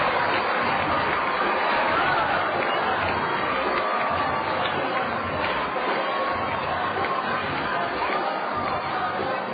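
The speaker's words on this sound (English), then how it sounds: "And the crowd loves it." A minor-league baseball crowd at a Wisconsin Timber Rattlers at Cedar Rapids Kernels game roars and cheers after a two-out triple into the right-center alley, a loud, sustained wash of voices and chatter over a play-by-play announcer.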